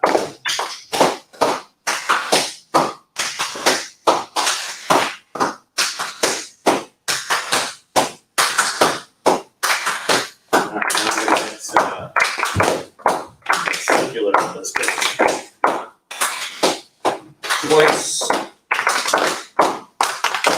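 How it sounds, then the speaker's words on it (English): Rhythmic hand clapping from a group in a clapping exercise led by an artist, with sharp, evenly spaced claps in repeating patterns, close and loud, interspersed with a voice talking between and over the beats. "On this side, you can use a sort of medium clap."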